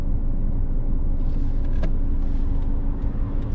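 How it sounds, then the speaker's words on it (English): Cars pass steadily on a busy road, a continuous low rumble of traffic close by with no clear break. "We'll wait for these cars and we're going to go there."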